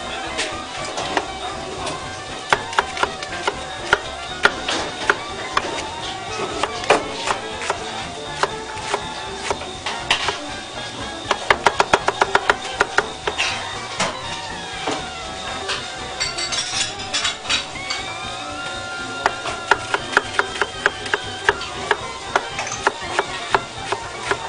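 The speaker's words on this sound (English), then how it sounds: "That was a fast dicing lesson on onions for the chili" A chef's knife dicing onions on a cutting board for chili, rapid sharp chopping taps in quick bursts and runs, close and clear, with occasional clinks and a voice talking now and then.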